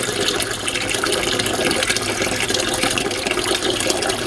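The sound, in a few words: water running from a tap into a container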